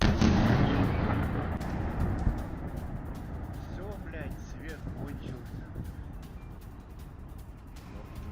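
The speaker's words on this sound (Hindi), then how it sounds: "रूस ने 2 इस्कंदर मिसाइल से अटैक किया गया है रात के अंधेरे में" Heavy rumbling blasts and booming from a night-time Russian Iskander missile strike on a Ukrainian power station in Kyiv, loud at first and then trailing off into a long low roar with scattered cracks.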